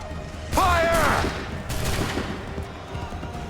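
A musket volley in Assassin's Creed III, a sharp ragged burst of simultaneous shots followed by a second rolling crackle and fading echo, with shouted commands and battlefield noise around it.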